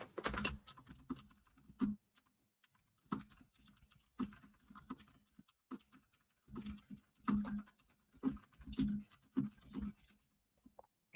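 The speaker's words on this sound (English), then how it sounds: "Oh man, I was just doing all this typing." Typing on a computer keyboard, close and clear, in uneven bursts of rapid key clicks broken by short pauses, with no talking.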